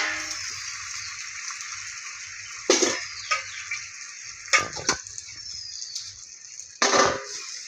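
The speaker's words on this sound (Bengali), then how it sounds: "সামান্য একটু জল দিয়ে দিলাম" A small splash of water goes into a pot of curry made with bean seeds and mixed vegetables, heard as three short pours of a few seconds each against a quiet background with a low hum.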